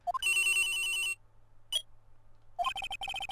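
A cell phone in the game Trials & Tribulations rings with a bright electronic trill, a sustained ring, a short blip, then rapid repeated chirps, close and clear.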